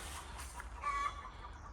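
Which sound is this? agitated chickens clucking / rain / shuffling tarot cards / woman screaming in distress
agitated chickens clucking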